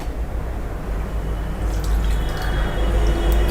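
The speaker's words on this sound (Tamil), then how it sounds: "ஒரு அரை டம்ளர் வந்து தண்ணி விட்டுக்கலாம்" Half a tumbler of water is poured into a pressure cooker holding salted mutton biryani ingredients, a close splashing trickle that builds steadily toward the end.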